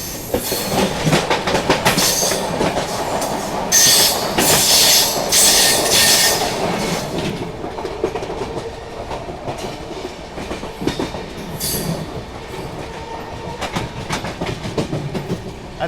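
Howrah Jodhpur Express rolling along near a Kanpur goods yard, a steady loud rumble of wheels and wagons with rhythmic clatter and bursts of screeching over the rails, sustained throughout.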